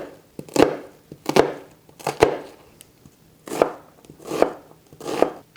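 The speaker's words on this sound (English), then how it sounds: "chop this like this" Knife chopping food on a cutting board while preparing Persian stuffed grape leaves, six distinct close, loud strokes at an uneven rhythm with brief pauses between them, no talk.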